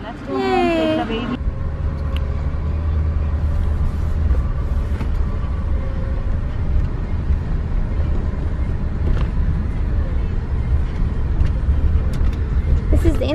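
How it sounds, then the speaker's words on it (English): Inside a moving car bringing a newborn home, a steady low road and engine rumble runs throughout, with a voice speaking at the start. "Zane's first car ride, you guys."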